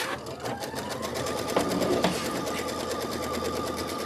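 A Kimberbell embroidery sewing machine stitching the quilting pass on a ladder quilt filler block; steady, fast, even needle clatter with a whirring motor hum, continuous and close throughout.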